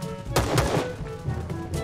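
Gunfire in the Rules of Survival battle royale game: a few sharp shots, moderately loud, over a steady background hum.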